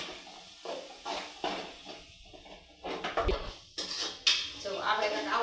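A spoon scrapes and clinks against a cooking pan while an eggplant oro mixture is stirred, uneven bursts of metallic scraping close up with a voice speaking in between.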